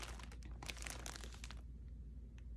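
Plastic packaging around Premier yarn skeins crinkles faintly up close, a cluster of crackles for about a second and a half, then fading to quiet room tone.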